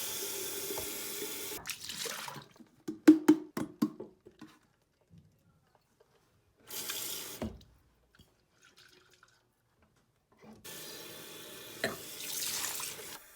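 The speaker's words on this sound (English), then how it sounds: "I just had to wash off some of my paintbrushes" Tap water runs into a sink while paintbrushes are washed, coming in several bursts of splashing flow separated by quiet pauses, with some sharp clatter and drips near the middle.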